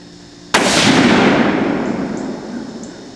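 6.5 Creedmoor rifle fired downrange outdoors: one sharp, very loud shot followed by a long rolling echo that slowly fades.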